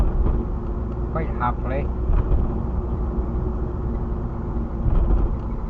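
A Jaguar X-Type car drives along with a steady, low engine hum and road rumble, the pitch rising and dropping briefly as it shifts through the gears, while someone talks over it.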